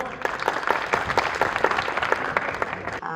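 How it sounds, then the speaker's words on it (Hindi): An audience at a Republic Day 2024 program at Kala Ashram Ayurved Medical College in Gogunda claps in a dense, steady burst of applause lasting a few seconds. "तो जोरदार तालियां हो जाए एक बार।"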